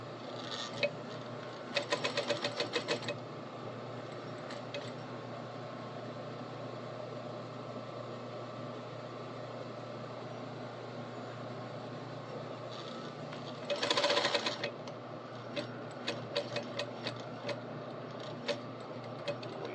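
A sewing machine stitching an Edwardian collar runs in a steady mechanical whir, with short faster bursts and a louder stretch near the end where the needle speeds up, plus a few ticking clicks as it stops.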